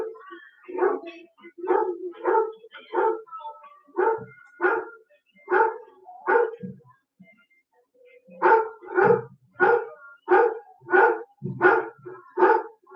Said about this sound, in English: I can hear him barking.